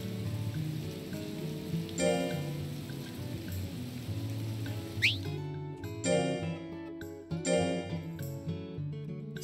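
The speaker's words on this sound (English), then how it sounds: "Oh no, it's raining!" Rain falls steadily in Ultra Kaiju Monster Rancher, a soft hiss of drops running beneath the game's music, with brief chimes and bright accents rising over the downpour.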